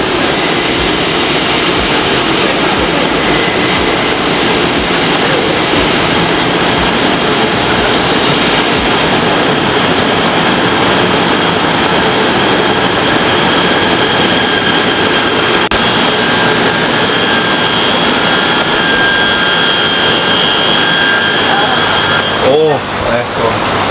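Inside an air-conditioned train riding toward Kuala Lumpur, a loud, continuous rumbling roar of wheels and motion fills the carriage without letup, with a brief rattle near the end.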